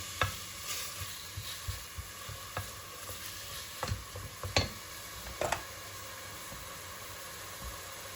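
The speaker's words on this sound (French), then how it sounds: "Je fais revenir." Chickpea kercha ingredients sauté in a pan with a soft, steady sizzle, broken by occasional faint scrapes and taps of stirring, with no voices.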